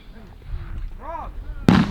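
A single sharp rifle report at a precision rifle shooting match, a sudden loud crack near the end after a brief quiet stretch with faint voices.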